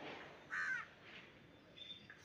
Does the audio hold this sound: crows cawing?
yes